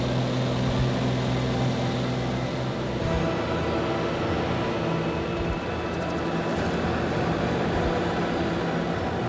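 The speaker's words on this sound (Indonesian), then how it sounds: "Pesawat melintas di atas kawasan perbukitan yang ditumbuhi pepohonan." A small propeller plane drones steadily and loudly throughout while flying over tree-covered hills, its engine noise filling the scene without pause.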